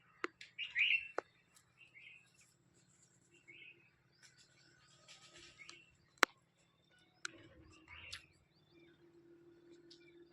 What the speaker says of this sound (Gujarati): પક્ષી કિલોલ કરતા હોય